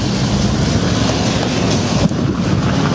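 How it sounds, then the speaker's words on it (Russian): A car rolls along a rough, potholed dirt road in a garden-plot community, giving a steady, loud rumble with wind buffeting the microphone and no talk. "Мы едем дальше."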